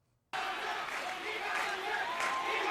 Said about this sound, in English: They're cheering for y'all now.